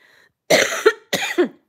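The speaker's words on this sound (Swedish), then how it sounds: "Jag hostar fortfarande." Two harsh coughs from one person about half a second apart, close and loud, against an otherwise quiet background in a school woodworking room.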